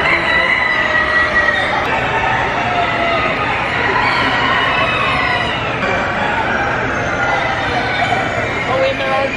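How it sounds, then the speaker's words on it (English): Chickens cluck and roosters crow together in a dense, loud, continuous chorus filling the Ohio National Poultry Show 2021 hall, with many caged birds calling at once. "Oh, and there are chickens below,"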